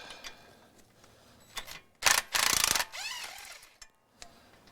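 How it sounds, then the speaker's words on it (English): A Craftsman impact wrench removing brake bolts on a Jeep Wrangler JKU, with a loud, brief buzzing burst of hammering rattle in the middle and quieter mechanical clicks around it. "we could just use our fancy dancy Craftsman Impact"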